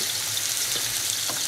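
Onion sizzling as it fries in a pan for Greek-style stuffed vegetables: a steady, dense hiss and crackle that stays close and even throughout, with no voices.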